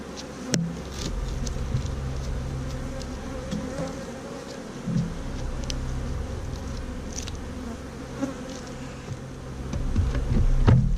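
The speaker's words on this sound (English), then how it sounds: "A lovely hive, full of bees, great." Honey bees drone continuously inside a hive under inspection, with a dense close-up buzz holding steady throughout and occasional louder passes of individual bees.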